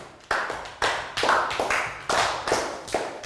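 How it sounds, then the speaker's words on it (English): Classroom applause in a Year 3 math lesson: several bursts of clapping and tapping hands from a small group of children, close and moderately loud, coming in uneven waves. "Round of applause for Net."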